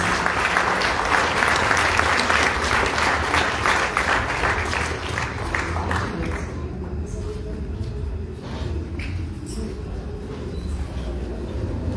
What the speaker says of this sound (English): A round of applause for Team Seattle and Daniel Matthews.